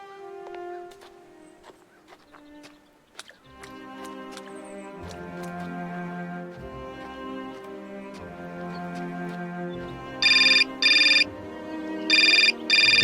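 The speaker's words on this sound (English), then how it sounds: "The uneventful phone call once again." Phone ringing in the video game Syberia Remastered: two bright electronic ring bursts near the end, heard over sustained orchestral game music with no speech.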